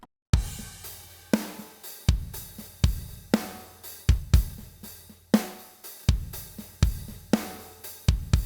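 A drum groove with a busy hi-hat pattern, heavily compressed by the COMP.TWO plugin, with punchy kick and snare hits in a steady repeating rhythm.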